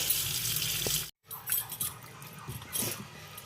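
Tap water runs into a sink while meat is washed, a soft splashing stream that cuts off for a moment and then returns with uneven trickles and faint clinks.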